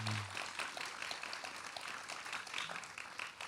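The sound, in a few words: audience applause for Kathleen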